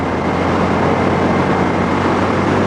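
Jawa 42 motorcycle cruising in 6th gear, its engine a continuous loud, even hum mixed with rushing wind, steady for the whole stretch with no talking.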